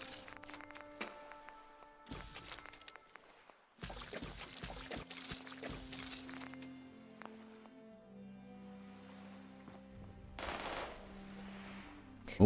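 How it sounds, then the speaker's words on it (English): Distant minigun fire in Fallout 4 comes in scattered rattling bursts with gaps between them, set against sustained game music tones and ambient hum. "You just hear minigun shots every so often."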